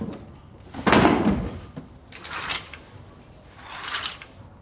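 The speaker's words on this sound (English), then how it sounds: "Thought I heard someone knocking." Someone knocks on a door in the period drama Peaky Blinders: three separate muffled knocking bursts spaced a second or more apart, the first the loudest, with no talking.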